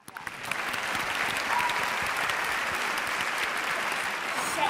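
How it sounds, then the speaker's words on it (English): Audience at a DC Comics women's panel in Washington, D.C. breaks into steady, dense applause that builds quickly and holds loud and even, with faint voices beneath. "we have to applaud the good people too"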